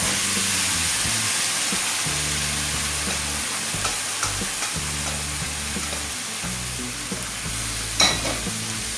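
Pressure-cooked mutton sautéing in a hot pan of masala for a spicy mutton roast, a steady loud sizzle with periodic scraping stir strokes and a brief clank near the end.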